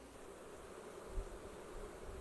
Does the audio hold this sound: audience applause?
no